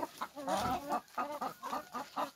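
Chickens cluck in a repeated, close-up series of calls right after being released from their coop, with overlapping fowl voices and no speech.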